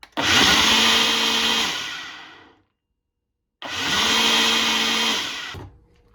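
A blender blending basil whirs loudly for about two seconds, winds down, then runs again in a second burst after a short silence.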